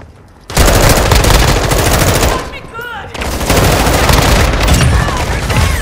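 Heavy Call of Duty: Modern Warfare II gunfire, loud continuous automatic bursts with a brief lull midway before the rapid firing resumes, close and dominant throughout.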